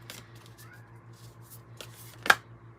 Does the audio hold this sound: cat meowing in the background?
yes